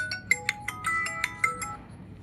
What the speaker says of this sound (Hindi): 1 मिनट बच्चों, फोन आ रहा है।